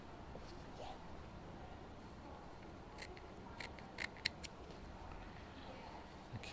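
Scissors snip through the ends of fabric binding while sewing a French bind, giving a few faint, short cuts against a quiet background.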